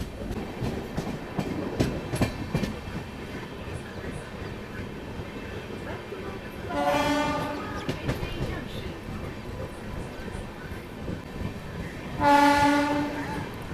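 An Amrit Bharat Express train pulls into Jolarpettai Junction, with steady rumbling rolling noise and two loud horn blasts, one near the middle and one near the end.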